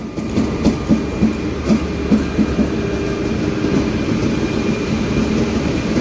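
An Amrit Bharat 2.0 Express push-pull train, with an engine at each end, runs steadily with a continuous rumble and a regular clickety-clack of wheels over rail joints. The sound is close, heard from on board or trackside, with no speech.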